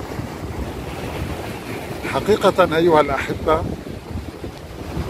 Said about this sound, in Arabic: الموج قوي اليوم ولكن ارتفاعه لا يتجاوز 1 متر